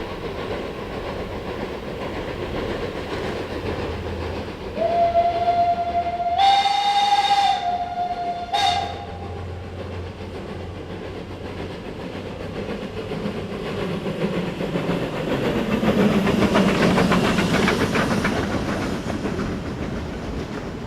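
A steam locomotive on the Furka mountain railway in Switzerland chugs with a steady hiss and rumble, sounding a loud, sustained steam whistle blast that rises in pitch before cutting off, then continuing to puff and hiss.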